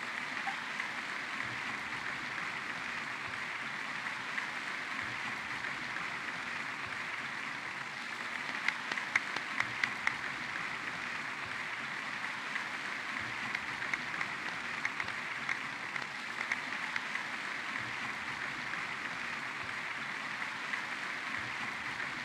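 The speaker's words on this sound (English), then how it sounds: "The applause continue after I take off the mask." Crowd applause in the Genshin Impact video game, a continuous soft patter of clapping that holds evenly throughout, fairly faint, with a few slightly sharper claps near the middle and no voices.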